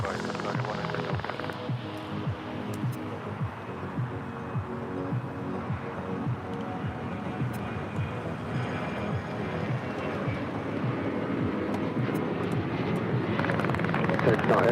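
Airliner touching down on a runway at LAX, a steady roar of jet engines building slightly toward the end, heard at a distance with radio chatter over it.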